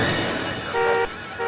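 A car horn gives two short honks over a steady background hum, sounded by a man locked inside the car to call for help.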